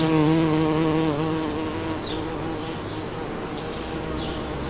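A steady, droning hum with a buzzing, insect-like quality, fairly loud at first and easing slightly, continuing without pause.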